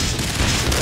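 Fireworks bursting in the PC shooter Max Payne, Ragna Rock level: dense, loud booming blasts with broadband crackle, running continuously with a heavier thump near the middle.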